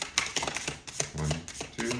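Tarot cards are shuffled by hand in short riffling bursts with soft flicks and slaps, close and fairly quiet, with brief pauses between bursts.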